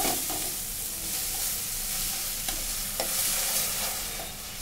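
Egg and ground spices for a cabbage and meat curry fry in a pan, giving a steady sizzling hiss with occasional stirring scrapes and soft knocks.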